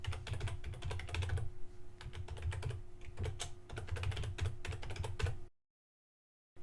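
Quick, steady keystrokes on a computer keyboard as an email address is entered, close and clear with an even rhythm for about five seconds before stopping.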